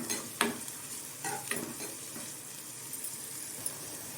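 Chopped onions with chili sauté in a pan for a broad beans poriyal, giving a steady, close sizzle broken by a few sharp scraping stir strokes, with no talking.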